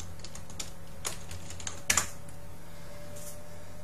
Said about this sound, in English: you're going to want to type in PHP Designer on Google